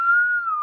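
A single steady whistled tone imitating the Hunger Games mockingjay call, held clear and loud for under a second, alone with no talk around it.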